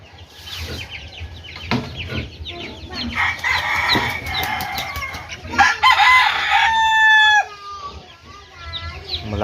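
Chickens cluck near at hand and a rooster crows loudly in a long drawn-out call, with a few scattered bird sounds on a farm.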